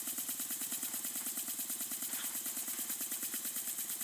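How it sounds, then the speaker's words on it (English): A small wobbler engine runs at a steady pace, putting out an even, rapid chuffing pulse up close with a constant hiss and no talk. "as you can see, it's kind of a neat little engine."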